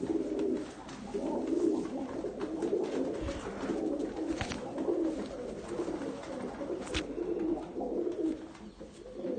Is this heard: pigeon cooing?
yes